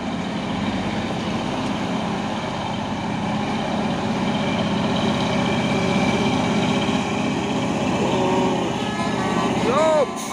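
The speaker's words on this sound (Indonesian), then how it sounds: "Masuk lagi satu nih dump truck Puso, dan di belakang ada satu nih truk box Hino Jember ini." Indonesian roadside traffic: a Puso dump truck and a Hino box truck rumble past up close in a steady, loud wash of engine and tyre noise, with a rising horn-like tone at the very end and a voice talking over it.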